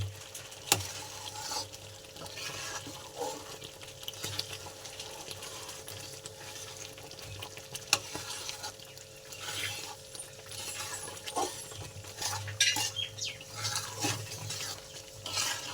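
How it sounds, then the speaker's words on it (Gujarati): A spoon scrapes and stirs through thick wheat halwa in a pan, steady and repetitive with a faint sizzle underneath, close up. "હલાવતા રહેવું પડશે"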